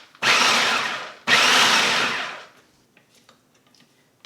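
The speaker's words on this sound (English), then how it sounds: "we're just going to pulse it until it's well chopped." A food processor pulses basil pesto ingredients, including nuts, in two loud whirring bursts of about a second each, followed by near silence with a few faint clicks.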